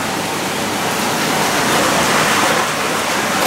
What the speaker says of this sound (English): I am dumping this water here.